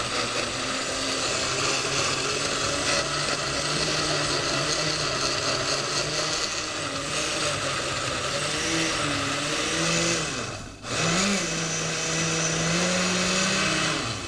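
A kitchen blender whirs steadily as it blends chimichurri with olive oil, a loud continuous motor drone that dips briefly and then resumes near the end.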